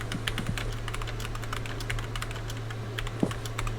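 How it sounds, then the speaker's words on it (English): Someone types on a computer keyboard in a rapid, uneven run of crisp clicks that continues throughout, close up over a low steady hum. "I hear typing."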